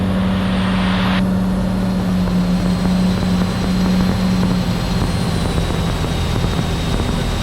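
A Cirrus SR22 single-engine propeller plane on landing approach into EAA AirVenture 2022 drones steadily and loudly from inside the cockpit, a constant engine and propeller hum with a low tone that shifts partway through.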